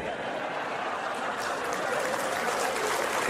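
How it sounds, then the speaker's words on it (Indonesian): An audience at a Ramadan sermon applauds in a steady, moderate wash of clapping that carries on for a few seconds with a faint crowd murmur beneath. "tepuk tangan dia langsung lah."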